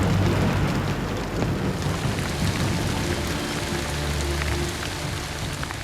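Heavy rain pours steadily during a storm at a bush campsite, with low rumbling thunder rolling underneath the dense, continuous downpour and no voices.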